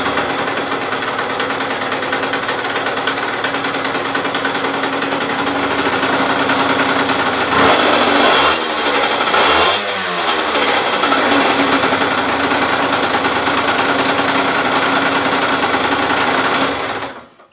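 A 2009 Yamaha DT 50 two-stroke motorcycle engine runs close and loud with a steady buzzing drone, rising briefly as the throttle is blipped partway through, then settling back before cutting off at the end.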